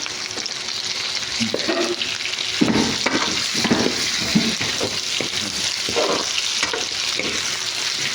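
Chicken frying in a pan with garlic, ginger and onion, a steady broadband sizzle with scattered clinks and stirring scrapes, fairly loud and close, with no voices.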